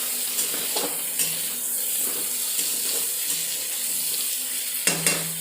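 Pointed gourd pieces, salted, fry in oil in a pan with the lid pushed partly aside, making a constant close sizzle broken by a few soft clinks of utensils.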